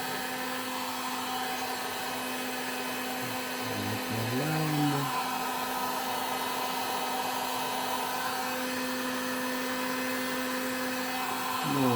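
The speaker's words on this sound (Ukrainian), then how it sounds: "Зараз прогріється фен і потихеньку починаємо неї заплавляти." A heat gun blows in a steady, loud whir while melting a broken plastic eyeglasses frame. The hum stays constant, with a brief wavering whistle in the middle.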